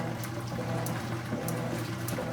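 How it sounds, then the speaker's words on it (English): A Whirlpool WTW5000DW washing machine in manual test mode runs its drain pump while water is added, giving a soft continuous watery churn and gurgle with a few faint splashy ticks and no talking. "we're gonna start the drain pump"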